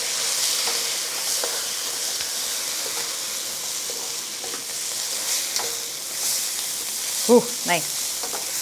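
Pineapple fried rice with dry and wet seasonings is tossed and stir-fried in a hot pan, giving a steady loud sizzle with a few sharp scraping clatters. A brief spoken exclamation comes near the end.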